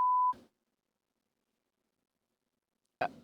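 A short, pure censor bleep sounds at the start, followed by near silence and then a brief burst of sound at the end.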